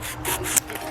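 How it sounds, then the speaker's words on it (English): A survival kit wire saw cuts through wood, rasping back and forth in a few quick strokes at close range, fairly quiet and with no one talking. "You start sawing it back and forth."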